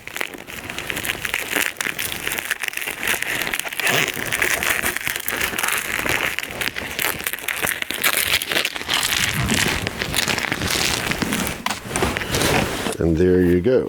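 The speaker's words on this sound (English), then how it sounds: "And here we have headlight number 2. Just get this unwrapped also." A packaged Spec D Tuning one-piece car headlight is unwrapped with continuous close crinkling and crackling of plastic and packing material, while a person talks over the rustling.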